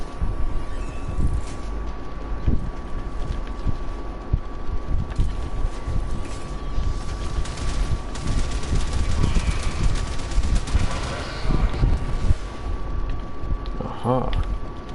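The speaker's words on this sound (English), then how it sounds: "So that's the cannon." A cannon fires in Warframe, with rapid bursts of booming shots over a constant rumbling drone, loud and repeated throughout; a voice speaks intermittently.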